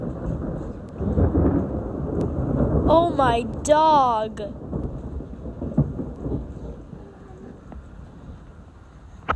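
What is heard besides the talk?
long thunder boom during a storm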